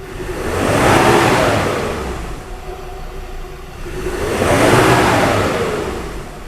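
A Ford Ranger pickup truck engine with a P040D fault code revs up, eases off, then revs up again in two broad surges, loud and close, with a steady low rumble throughout.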